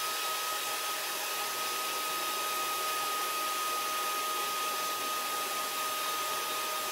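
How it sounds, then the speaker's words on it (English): A hair dryer blows steadily and continuously at moderate volume, with no pauses and no voices, while drying paint on a Dollar Tree craft. "I go over to my hair dryer, which you probably can't see, but I go over here and I just dry it."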